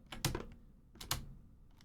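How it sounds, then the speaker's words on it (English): While working in Blender, a Control key is pressed and the mouse clicked twice, two close, soft click clusters with a short gap between them and no talk. "I'm holding Control and clicking"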